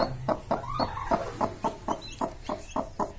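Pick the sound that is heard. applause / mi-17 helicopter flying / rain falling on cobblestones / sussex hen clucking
sussex hen clucking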